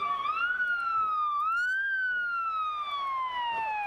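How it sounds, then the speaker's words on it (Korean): Wailing ambulance siren arriving at a WWE Royal Rumble 1999 wrestling event, a loud continuous rising and falling tone sweeping steadily for several seconds. "앰뷸런스가 왔습니다"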